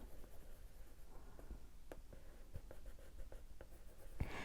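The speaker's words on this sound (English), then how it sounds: "So this is like where you're almost burnishing it onto the paper." A Derwent Inktense colored pencil is pressed hard and burnished onto paper, giving close, scratchy strokes with irregular sharp scrapes and taps, alone and quiet.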